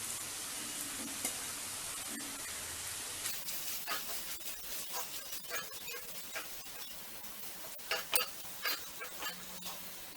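Chilli chapathi masala with cut chapati pieces frying on a low flame, a steady soft sizzle with scattered scraping stirs that grow more frequent toward the end.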